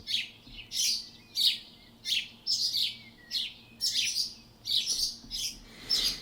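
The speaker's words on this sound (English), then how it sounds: "Those birds just on repeat." Repeating bird chirps loop as background ambience in the Fate/Stay Night visual novel game, short bright bursts arriving at a steady rhythm of roughly one per half second, fairly close and clear over a low, quiet hum.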